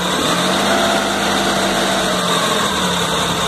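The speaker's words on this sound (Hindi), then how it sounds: "हल्के हल्के रेस बढ़ा रहे हैं" Maruti 800 engine running steadily and revving gently while its alternator charging current is checked, a continuous close, loud engine drone with a steady tone and no talk over it.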